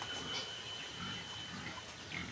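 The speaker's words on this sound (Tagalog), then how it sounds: "Ang baboy niya." A pig at a home in Zamboanga del Norte grunts in a few soft, low bursts against quiet outdoor background noise, faint and close together over about two seconds.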